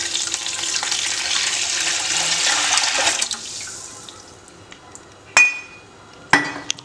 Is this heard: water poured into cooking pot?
yes